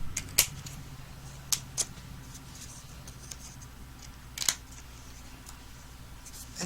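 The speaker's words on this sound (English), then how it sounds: "line my scissors up on the edge of my card base there, my basic brown there, and cut these pieces off" Scissors snip through brown card stock in a few sharp, quiet cuts, separated by pauses, close up against a faint room hum.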